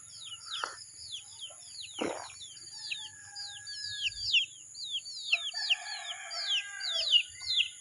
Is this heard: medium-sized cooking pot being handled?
no